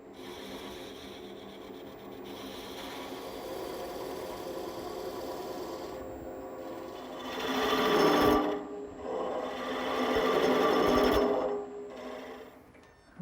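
Wood turned on a lathe while making chair parts, a steady whirring grind across the whole stretch, swelling louder in two broad bursts as the cutting tool bites into the spinning blank.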